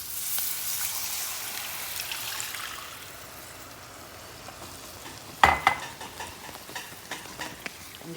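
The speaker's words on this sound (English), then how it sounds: "And you're gonna stir around and get the little bits on the bottom." Gravy with flour and a base added sizzles steadily in a frying pan while being stirred, scraping bits off the bottom, with a louder scrape or clatter partway through and no talking.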